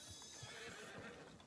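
A horse whinnies briefly in the video game Red Dead Redemption 2, with faint hoof clip-clops underneath; fairly quiet, with no speech.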